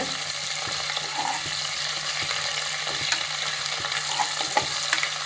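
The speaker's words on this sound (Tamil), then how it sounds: "இதை நல்லா வதக்கிக்கலாம் முதல்ல" Chopped ingredients sauté in a pan for mutton head curry, with a continuous close sizzle broken by regular light scrapes and taps of a spoon, steady and moderately quiet, with no voices.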